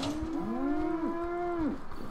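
A two-headed cow in the video game Fallout 4 gives long, drawn-out moos that overlap, nearby and clear, with no talking.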